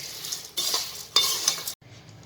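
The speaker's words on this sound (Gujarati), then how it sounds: "હવે આ બધું આપણે મિક્સ કરી લઈએ" Papad poha mixture being stirred and tossed in a pan, two bursts of scraping and rustling with light metallic clinks, close and fairly loud, ending in near silence.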